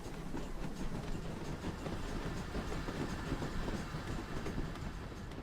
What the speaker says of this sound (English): The two engines set off towards the sidings.